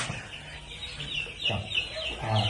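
Young Phu Phan black chicken chicks cluck and peep continuously under a heat lamp in a brooder, a busy, close chorus of overlapping chirps.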